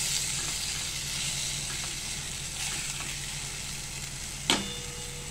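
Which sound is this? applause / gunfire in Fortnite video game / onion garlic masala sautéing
onion garlic masala sautéing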